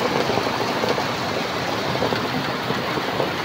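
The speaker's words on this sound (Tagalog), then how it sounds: "Kala ko hindi lalakas yung ulan ay" Heavy afternoon rain pours down after a hot morning, a loud, continuous wash of drumming water that stays even and unbroken throughout.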